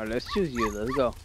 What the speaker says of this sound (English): See, that's a dog.